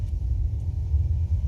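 A 2026 BMW X2 M35i pulls away from a standstill with a deep, steady engine rumble that holds at a constant level throughout, close and fairly loud, with no voices.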